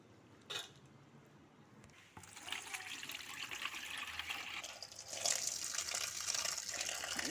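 Soaked palm fruit pulp being washed by hand in water makes faint splashing and gushing sloshes that grow fuller after the first couple of seconds, with no talking.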